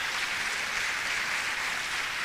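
A church congregation applauds together in a steady, dense wash of clapping that holds evenly from start to finish, with no voice above it.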